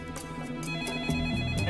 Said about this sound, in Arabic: حاول أحد المفوضين الاتصال بتشوبك